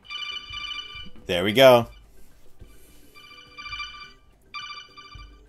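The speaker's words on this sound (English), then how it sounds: "let's go ahead and do the Metal Gear theme" A Metal Gear theme plays as a ringtone on a Samsung Gear S smartwatch, repeating short tinny melodic bursts with pauses between them, while someone speaks briefly over the start.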